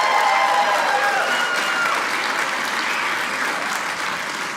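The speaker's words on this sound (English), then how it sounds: "Clap a round of applause if you're married." Steady applause with some cheering from married members of a comedy-club audience in Provo, Utah, a dense continuous roar that holds strong for several seconds before easing slightly at the end.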